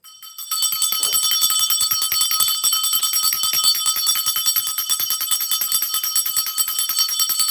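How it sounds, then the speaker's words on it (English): A hand bell is shaken in rapid, continuous rings, bright and close, ringing on alone with no pause after a brief quiet start. "let me get my bell"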